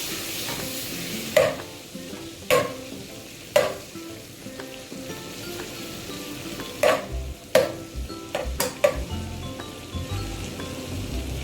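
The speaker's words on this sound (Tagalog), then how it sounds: "lagyan po natin ng konting oil yung butter para hindi siya masunog" Butter with a little oil sizzles steadily in a pan, a constant frying hiss with occasional sharp clinks of a utensil against the pan, no talking.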